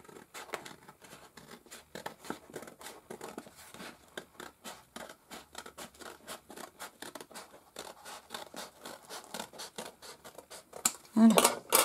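A parcel being cut open at the top, with a long series of quick, crisp snips and scratches in an irregular rhythm, close by, ending in louder rustling.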